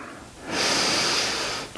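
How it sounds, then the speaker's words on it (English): A single deep belly breath during a yoga stretch, a broad soft airy rush that swells up, holds steady for over a second and fades, close and fairly loud with no talking. "Breathing into the belly."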